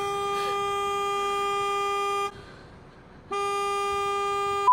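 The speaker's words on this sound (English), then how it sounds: "they continued to lay into their horn" A car horn honks in long sustained blasts right behind a stopped bus at a railroad crossing, cutting off briefly before blaring again, loud and close.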